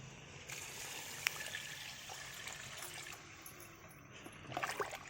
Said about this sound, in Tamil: இப்போ நம்ம பிரியாணிக்கு தேவையான அளவு தண்ணி ஊற்றிக்கலாம்.